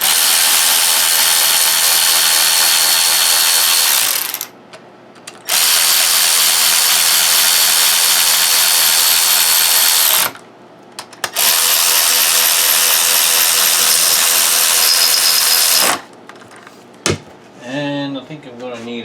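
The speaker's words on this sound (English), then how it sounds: "Then get a little help from the front, the power tools, just to run them in." A power tool runs bolts into a Briggs & Stratton V-twin engine during a Craftsman YT4500 lawn tractor rebuild, giving three loud, sustained whirring bursts with short pauses between them and a brief clatter at the end.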